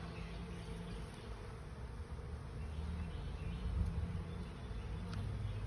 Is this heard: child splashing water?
no